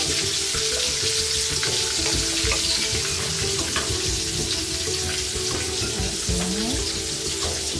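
Rainbow vegetables and tofu stir-frying in a pan with a steady, loud sizzle throughout, broken by scattered clinks and scrapes of stirring; no voices.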